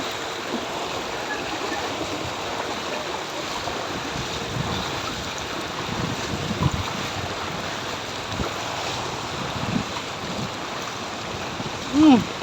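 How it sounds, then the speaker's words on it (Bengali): Rainwater runs as a current through a flooded street in hilly Malaysia, a broad, steady rushing wash with wind buffeting the microphone and faint voices now and then. "দেখেন কি পানি, পানির স্রোত।"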